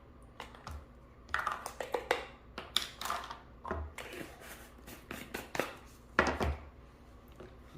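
Salt, pepper and garlic being mixed into a rub for pork belly, heard as irregular light clinks and scrapes of a utensil in a bowl, close and fairly quiet, with no talking.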